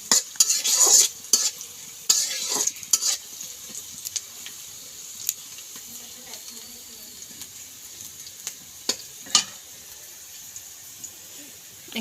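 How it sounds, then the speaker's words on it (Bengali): Dried sea fish being fried and stirred in a pan until brown: loud scraping stir strokes in bursts at first, then a quieter steady sizzle with occasional sharp clinks of the spatula. "দুই মিনিট বাদামি কালার না হওয়া পর্যন্ত একটু নেড়ে ছেড়ে দিবেন।"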